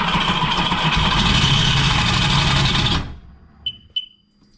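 A supercharged Sea-Doo jet ski engine runs loud and rough close by, then cuts off abruptly, leaving near silence broken by two brief high-pitched chirps.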